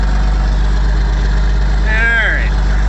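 Engine idling steadily after its throttle has been set back, a continuous low rumble with a brief rising whine or squeal near the end.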